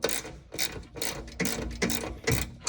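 Ratcheting clicks from tightening a carriage bolt on an Ineos Grenadier drawer system, coming in several close, fairly loud bursts of rapid mechanical clicking with short pauses between them, no voices.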